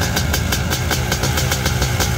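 An old Honda CR500R two-stroke motorcycle engine runs steadily nearby, a rough, loud mid-pitched drone with a rapid pulsing beat throughout.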